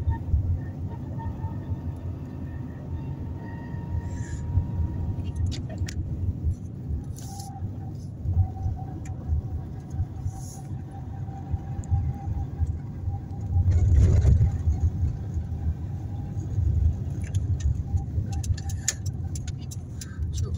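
A car is driven inside its cabin with a steady low road and engine rumble and occasional clicks and rattles, swelling briefly midway as it heads onto a road interchange near Volgograd.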